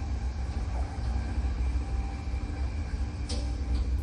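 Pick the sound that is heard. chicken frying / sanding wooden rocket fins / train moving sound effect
train moving sound effect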